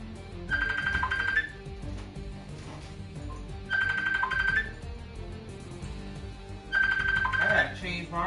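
A phone ringtone chimes in three repeating bursts of bright melodic tones, each about a second long, over background music and chatter.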